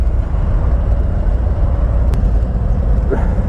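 A 2018 Harley-Davidson FLHTKSE CVO Ultra Limited motorcycle engine idles with a loud, steady low rumble close by, unbroken throughout.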